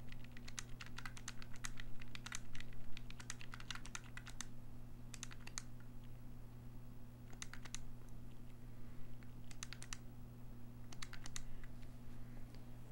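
Typing on a computer keyboard during a Family Feud (NES) speedrun: quick bursts of close key clicks with short pauses between them, over a steady low electrical hum.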